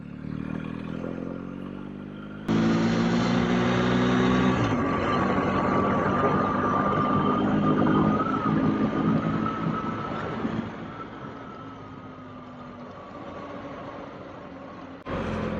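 A motorcycle engine drones steadily while riding on an open road, a continuous close hum with rising and falling pitch as the bike shifts and accelerates, mixed with wind rumble and no speech.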